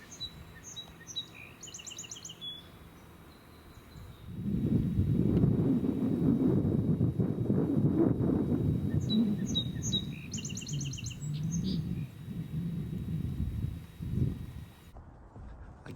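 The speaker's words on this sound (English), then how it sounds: "I guess I would call that success on species number 1, song sparrow." A song sparrow sings two clear bursts of bright trills and notes, fairly close, one at the start and another midway, with heavy wind rumble buffeting the microphone between them.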